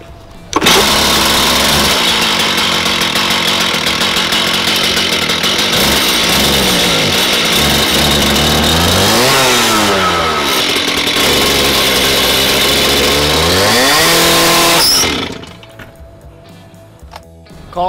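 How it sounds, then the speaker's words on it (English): A Stihl TS 440 cutoff saw with integrated blade brake roars at high, steady revs with several rising and falling throttle sweeps, loud and close, then cuts off abruptly, leaving quiet. "When starting the TS440, one of the first things you'll notice is that the blade brake is already engaged."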